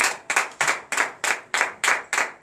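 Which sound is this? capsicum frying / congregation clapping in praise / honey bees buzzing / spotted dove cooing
congregation clapping in praise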